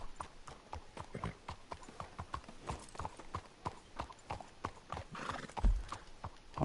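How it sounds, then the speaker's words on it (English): A horse's hooves clip-clop in a steady rhythm with an occasional neigh in the video game Red Dead Redemption 2 Online, fairly close and moderately loud, with little else around them. "someone's left their horse here"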